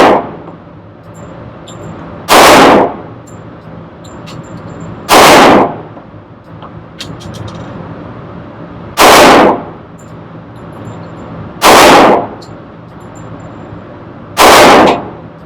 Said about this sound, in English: we'll do a magazine full simulated plate shooting on one target